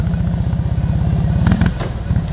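A classic Fiat 500 engine being revved at a gathering of enthusiasts, a steady loud low-pitched pulsing idle with a brief rise in revs midway and some light clatter.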